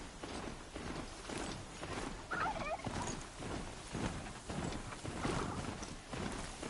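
Geese run alongside the player in Horizon Zero Dawn, giving a few brief honking calls over soft footsteps and ambient game noise at moderate volume.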